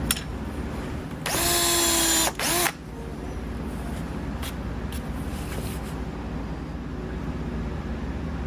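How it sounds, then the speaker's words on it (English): A power drill boring dowel holes into a wooden chair whines loudly for about a second and a half, followed by a short second burst, then quiet workshop ambience. "once that's dry, we'll drill those holes out"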